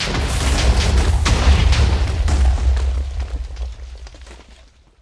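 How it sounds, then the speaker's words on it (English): A TNT explosion in Minecraft, one loud booming blast with crackling debris that rumbles on for a few seconds and then fades out. "pretty sizable explosion"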